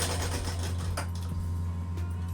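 A sewing machine runs steadily, stitching the side edge of a salwar: a continuous close mechanical hum with a faint rapid clatter, and a couple of brief sharper ticks as the fabric moves.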